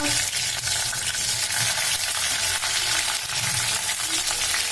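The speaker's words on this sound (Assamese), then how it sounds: "এয়া মই কেৰাহীত তেল দি দিলোঁ" Garlic and green chili frying in oil in a kadai, a steady bright sizzle and crackle throughout, close and even with no talking.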